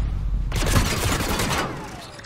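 A rocket rifle fires in Mass Effect 3, a deep thump followed by a burst of crackling blasts that trail off over about a second, loud and close.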